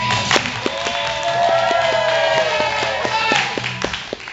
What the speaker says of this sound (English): Audience, keep clapping.